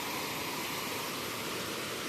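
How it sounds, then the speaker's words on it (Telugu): Kothapalli waterfall in the ASR district area of Andhra Pradesh gives a soft, distant, unbroken hiss of falling water, quiet and uniform with no other sounds standing out. "ఏపీ ప్రాంతంలో కొత్తపల్లి వాటర్ ఫాల్స్ దగ్గర ఉన్నాను"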